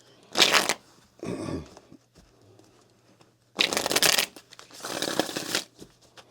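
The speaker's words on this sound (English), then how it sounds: "good enough shuffle here" Tarot cards being shuffled in quick riffling bursts, two pairs of crisp rustling passes separated by short pauses, close and fairly loud.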